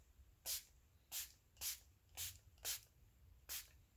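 Farmasi makeup fixer spray misted in six short hissing bursts at a steady rhythm, close and crisp, separated by near silence.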